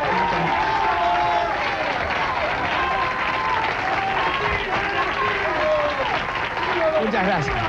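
A television studio audience applauds after a performance of a song. The clapping is dense and sustained, with a voice speaking over it.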